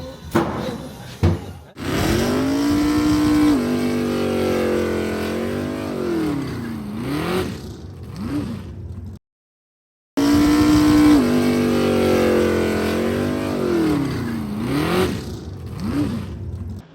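Sportsman-class race cars roar off at the start of a 30-lap race on an oval track, engines loud and revving with rising and falling pitch, a brief dropout midway, then the roar resumes.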